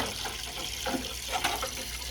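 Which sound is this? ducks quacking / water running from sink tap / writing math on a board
water running from sink tap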